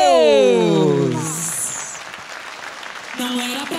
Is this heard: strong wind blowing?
no